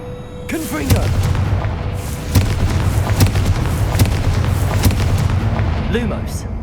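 Confringo fire spell explosions in Hogwarts Legacy, a string of sharp booming blasts over a rumbling background, loud and close, with a brief vocal sound at the start.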